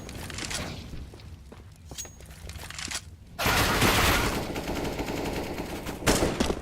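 Gunfire in the CS:GO tactical shooter, shots punched through a wall on the Inferno map during a tournament match: scattered single reports, then a loud sustained burst of rapid automatic fire from about midway, close and without talk.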